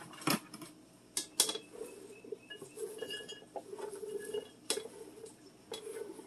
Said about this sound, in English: Dump in the celery